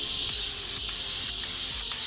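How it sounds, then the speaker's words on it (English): An aerosol can sprays clear coat onto the brake calipers of a wrecked Dodge Viper TA, four short, loud, hissing bursts with small gaps between them, close to the microphone. "So we're gonna spray it, let it dry, and then we'll be back."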